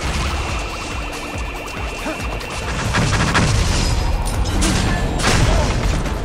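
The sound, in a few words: rockets firing in video game No More Heroes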